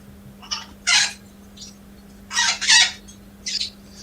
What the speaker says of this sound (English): Rooster, calm down.